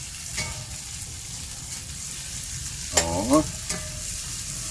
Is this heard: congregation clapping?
no